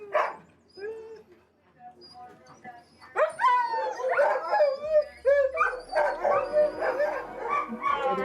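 Sled dogs at a musher camp near Skagway, Alaska bark, yip and howl together in a loud, overlapping chorus that builds and stays continuous, with a few voices heard beneath.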